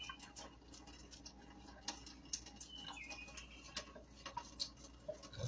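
A wall clock ticks faintly and steadily, its soft regular clicks mixed with occasional bird cooing in a quiet room.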